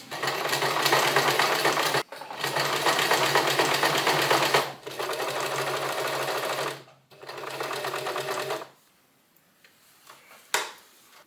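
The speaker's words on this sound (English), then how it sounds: "Okay, we're gonna get to sewing." A sewing machine stitches fabric in four loud, fast, rhythmic runs broken by short pauses, then falls quiet before a single sharp click near the end.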